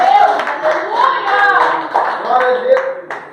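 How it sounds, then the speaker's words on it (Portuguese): Congregation clapping during a Pentecostal mission service in church, scattered hand claps under a voice speaking and exclaiming over them, fairly loud and close. "levante a mão e aplauda"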